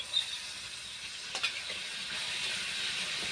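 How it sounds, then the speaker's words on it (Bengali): Water poured into a hot pan of fish curry with bottle gourd, potato and eggplant, setting off a steady close sizzle and hiss with a few brief clinks, no talking. "এই বাটির আমি আধ বাটি জল দিচ্ছি"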